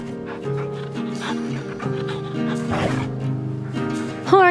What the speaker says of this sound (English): She's a snow dog.